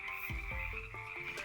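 Several frogs croak in a steady, pulsing chorus, close and fairly loud, with repeated low throaty calls over a constant high-pitched background trill and no talking.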